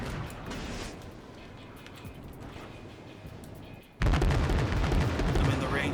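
Secondary guns on a warship in World of Warships fire in a rumbling barrage of booms, swelling suddenly louder partway through into dense, continuous gunfire.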